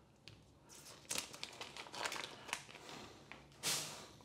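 Scissors snipping and cutting open raw chicken in a home kitchen, a run of close, crinkly crunching snips and rustles of packaging, quiet and irregular with a louder cut near the end.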